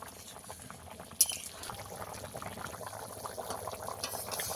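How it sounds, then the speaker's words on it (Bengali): Rohu fish curry with pointed gourd boils in a pot, a low steady bubbling and simmer with one brief clink of metal early on, quiet and close, no talk. "ঝোল ভালো করে ফুটে গেছে।"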